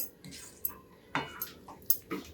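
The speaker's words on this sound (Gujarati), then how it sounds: "આને તમે કુકરમાં ટ્રાન્સફર કરી અને એકાદ સીટી તમારે લગાવી હોય તો પણ તમે લગાવી શકો છો." Cooked kidney beans are moved into a pressure cooker with a handful of light metallic clinks and scrapes of a spoon against the pot, spaced out over quiet moments.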